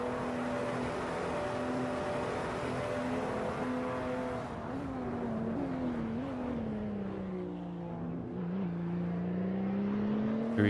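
A race car engine whines steadily through a fast lap of the Red Bull Ring in a sim racing game, its pitch dipping and climbing through corners and gear changes. A constant, moderately loud drone runs throughout, with no talking.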